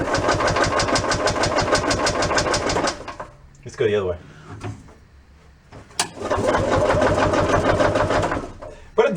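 Gas-powered golf cart engine from a barn find, running rough and clanky with a fast rattling beat in loud close bursts, cutting out briefly between them while someone speaks over the lull.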